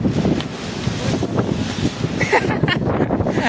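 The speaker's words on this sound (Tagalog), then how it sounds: "Ayan, lalakas ng hangin." Strong wind buffets the microphone in a steady low roar on a suspended platform gondola, with people talking underneath throughout.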